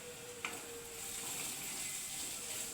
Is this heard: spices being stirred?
yes